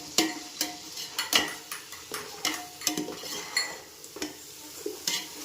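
Tomato frying in oil in a pan, with repeated stirring scrapes and clinks of a utensil against the pan over a soft, steady sizzle, close by and moderately loud in an irregular rhythm.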